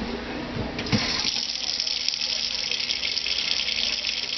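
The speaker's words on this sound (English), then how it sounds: "And I'll show you our running water here." Water runs steadily from a faucet in a small off-grid cabin supplied by a pump-jack water well, a continuous close hiss and splash heard alone with no talk.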